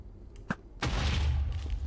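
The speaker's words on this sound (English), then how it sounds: "Yeah, that's a pretty big explosion, isn't it?" A loud explosion in Minecraft 1.19 bursts out after a short tap, a sudden broad blast followed by a rumbling decay that fills the rest of the moment.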